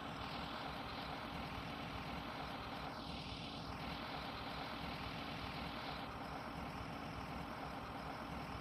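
A transit bus engine idling in the Rigs of Rods driving simulator, a steady low rumble that holds constant and fairly quiet throughout, with a brief higher whine sweeping in and out partway through.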